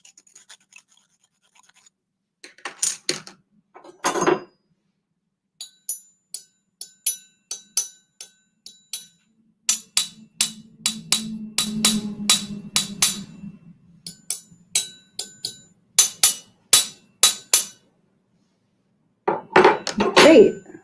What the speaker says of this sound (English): If you have different materials of silverware, you could also try them with each other.